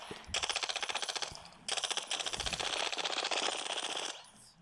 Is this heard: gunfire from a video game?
yes